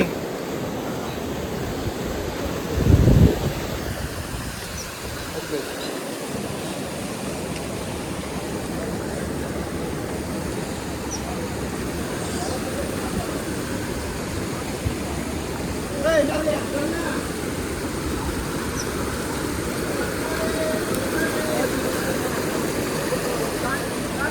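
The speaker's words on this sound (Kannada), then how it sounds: "ಸೊ ಇಲ್ಲಿ ನೋಡಿ ಫಾಲ್ಸ್." A waterfall at Harishchandragad gives a steady, broad rushing roar that runs through the whole stretch under someone talking, with brief knocks and wind bumps near the microphone.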